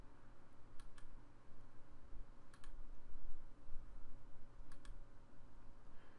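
Sharp mouse clicks on inventory management software, coming in three evenly spaced pairs of quick double clicks over a steady low hum, with no voices.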